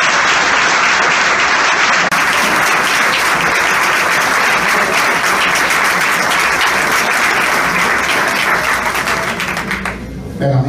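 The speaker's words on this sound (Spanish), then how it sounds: "Fuerte aplauso." Strong, sustained applause from a large audience at a Venezuelan political speaking event, loud and continuous for about ten seconds before tapering off near the end.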